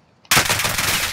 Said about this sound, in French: Je subis des tirs nourris.